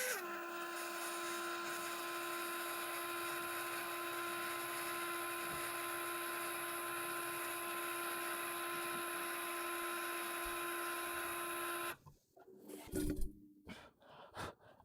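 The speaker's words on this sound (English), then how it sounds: "I mean, this drill isn't completely sharp at the end, but because I'm having to go so slow, it takes a while for it to actually get through the material." A small, slightly blunt drill bores slowly through model material, giving a steady high whine that holds for about twelve seconds before cutting off into brief handling knocks.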